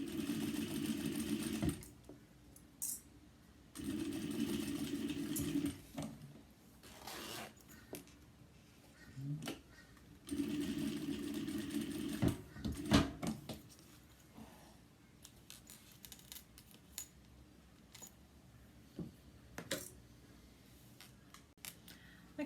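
A sewing machine basts a zipper pocket lining for a cross-body bag with a normal presser foot, running in several loud bursts of rapid stitching separated by pauses and small handling noises.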